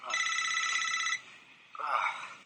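A telephone rings in a movie scene with a trilling electronic bell, one long ring followed after a pause by the start of a second, close and clear.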